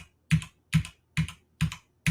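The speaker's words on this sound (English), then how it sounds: "I'm hitting the E key, right?" Five evenly spaced, sharp key presses on a brand-new but faulty computer keyboard, the free one bundled with the unit, striking the E key about every half second, close and clear with no talking.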